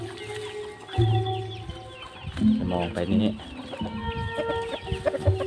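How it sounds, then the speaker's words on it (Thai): Free-range chickens on a mixed farm cluck and chatter close by in repeated short calls, while someone talks over them throughout. "นี่ก็มีไก่ เลี้ยงไก่นี่เลี้ยงไก่ แบบธรรมชาตินะครับ"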